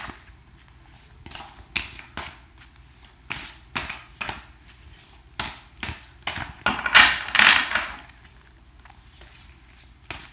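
Tarot cards are shuffled and drawn from a deck in quick papery riffles and flicks, with a denser burst of shuffling near the end. The sound is close and crisp, with no talking.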